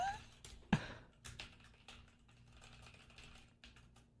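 Quick irregular clatter of keys on a computer keyboard, close and fairly quiet, with one sharper knock near the start and no speech.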